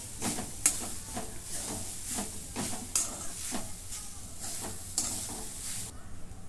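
Freshly ground coconut sautés in a pan for coconut ladoos, with a spatula scraping in steady repeated strokes over a soft, continuous sizzle, close and moderately loud.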